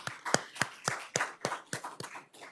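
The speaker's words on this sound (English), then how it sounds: "hand clap is in order" Several people applaud at a town hall meeting, a short burst of about nine sharp, fairly even claps that sound sparse and moderately quiet.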